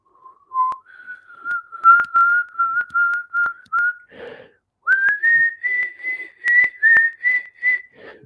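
A single loud whistle sounds alone in a series of clear, sustained notes, steady and then rising, with brief pauses between phrases, during an ayahuasca ceremony.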